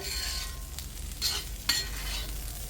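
Broccoli and potato masala fry sizzles steadily in an open pan, a constant hiss with a couple of brief stirring scrapes near the middle.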